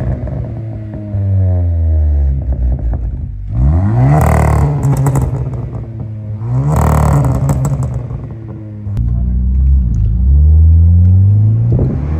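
A Hyundai N-Line car with a custom boost tune accelerates hard, the engine rising in pitch through repeated surging pulls with crackling exhaust pops between them, loud and close.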